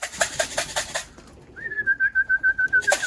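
Several soft coos from a pigeon open the clip, followed after a short pause by a long, steady whistle-like call.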